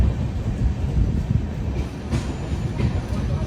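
The Udyan Express (11301) rumbles along toward Bengaluru, heard from inside the coach as a loud steady roar of wheels and rail noise with rhythmic clatter and faint squeals.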